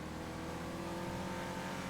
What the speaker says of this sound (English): listen to that Oracle engine